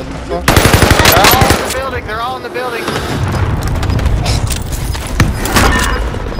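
Rapid automatic gunfire bursts from a Call of Duty match, loud and close, with sharp repeated shots, then continuing combat noise with voices talking over the action.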